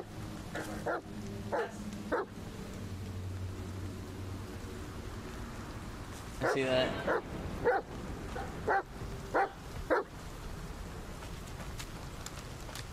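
Several short dog barks from the video game The Medium, spaced irregularly through the middle and later part, moderately close over a steady ambient hum with a few spoken words.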